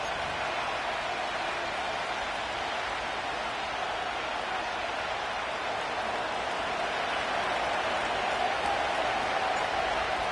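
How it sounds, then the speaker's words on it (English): Stadium crowd at Nissan Stadium in Nashville in Madden 25, a continuous broad roar of cheering that holds steady and swells slightly toward the end, with no clear talk. "The crowd is definitely ready."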